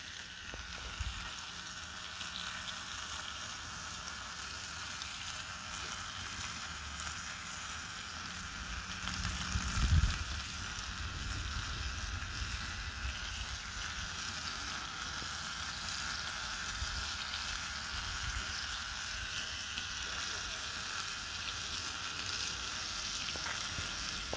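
Bacon sizzles steadily in a hot pan, a constant hissing fry with a brief low bump partway through, no one speaking.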